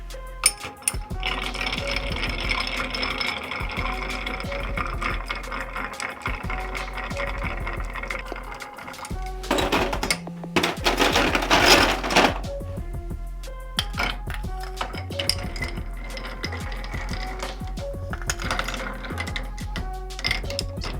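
Scotch cocktail with 10-year-old Scotch and three dashes of Angostura bitters stirred in a glass, a steady run of close, bright clinks and rattles over about twenty seconds, with a louder burst of clatter midway.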